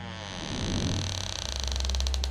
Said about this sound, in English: William suddenly heard the garage door creak open as Allison stepped inside, staring at him.